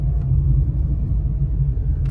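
A car engine drones low and steady while climbing a short rise on a ghat road, a continuous close rumble heard alone.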